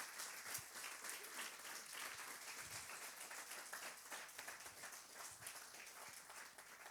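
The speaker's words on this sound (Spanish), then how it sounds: "¿Por qué no le das un aplauso a ese Dios?" A church congregation applauds during a sermon, a steady, dense wash of many hands clapping at moderate distance, sustained evenly throughout without voices rising above it.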